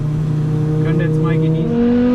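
Inside a VW Golf V with a 2.5 five-cylinder turbo engine on the Autobahn, a steady engine drone hums beneath the cabin, rising slightly in pitch toward the end while a person talks over it.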